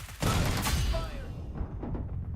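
A heavy burst of gunfire in the BGMI battle royale game opens loudly, then trails off into scattered fainter shots and rumbling, with a brief voice in the mix.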